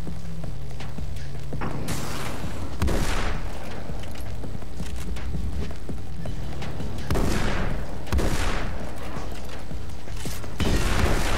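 Gunfire and grenade blasts in the video game Alan Wake: a dense, constant roar of shooting is broken by several loud booming explosions spread through the stretch, with no talk over it.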